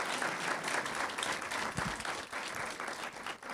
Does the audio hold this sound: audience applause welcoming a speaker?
yes